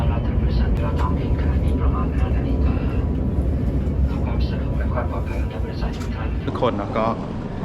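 Airliner landing at Helsinki, Finland, heard from inside the cabin as a steady, loud broadband roar of engines and airflow, with a person speaking over it.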